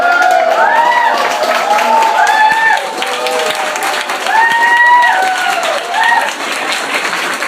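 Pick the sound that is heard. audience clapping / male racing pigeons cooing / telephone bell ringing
audience clapping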